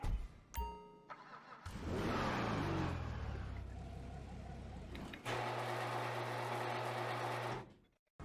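Ruiner ZZ8 car in a video game fires up and drives off, engine roaring and revving steadily with a chime early on, the note shifting before settling into a loud sustained drone that fades near the end.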